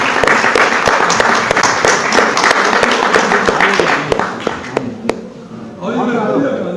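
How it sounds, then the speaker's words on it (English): An audience at a corporate talk bursts into dense, loud clapping that carries on for several seconds, then thins out as a voice begins speaking. "A round of applause, everyone."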